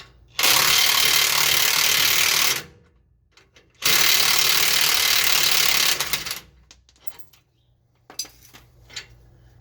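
Rear shock absorber bolts on a Chevrolet Silverado 3500HD 4x4 welding truck are loosened with a power tool, giving two loud, sustained whirring bursts of about two seconds each. Clanks and a few softer mechanical rattles follow.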